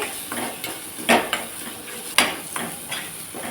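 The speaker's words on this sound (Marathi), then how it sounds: "आता आपण ही कांदा लसूण चटणी छान अशी ह्याच्यामध्ये भाजून घेऊया" Onion garlic chutney roasts in a pan: a low sizzle runs under intermittent stirring, with a few sharper metallic clinks of a spoon on the pan at irregular moments.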